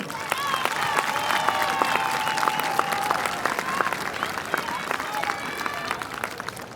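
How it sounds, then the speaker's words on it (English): A high school graduation crowd bursts into sustained applause, dense clapping from many hands filling a large venue, with scattered whoops and voices mixed in throughout. "Class of 2021, can you give a hand clap to all of those wonderful people that have helped guide you on this journey?"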